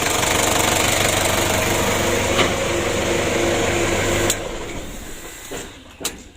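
A car engine that is hard to start, with a long starter crank and an overheating cooling system spraying radiator water, churns steadily and loudly for about four seconds, then cuts off to a quieter background with a few light clicks.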